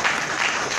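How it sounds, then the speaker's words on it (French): Steady applause from an audience at a digital bank launch ceremony with Didier Drogba, a brief dense wash of clapping heard alone. "Ça mérite des applaudissements"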